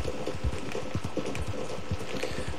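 Horse hooves clip-clopping in Red Dead Redemption 2, a steady, close, rhythmic walking gait of repeated hoof strikes, heard alone without talk.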